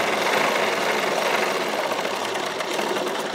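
A domestic sewing machine runs steadily, stitching straight lines on fabric during a home blouse-sewing lesson; the loud, continuous motor whir stays even throughout with no talking.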